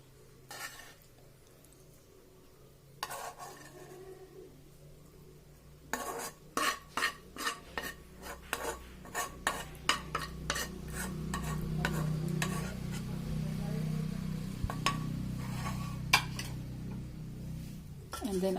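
Brinjal being tossed and stirred with masala in a pan, a run of sharp utensil scrapes and clanks in quick rhythm over a low steady sizzle, close and moderately loud.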